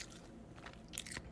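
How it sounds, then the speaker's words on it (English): Bacon being chewed, soft close crunching and biting sounds, faint and brief, with no talk. "As I started chewing more, it got a little better."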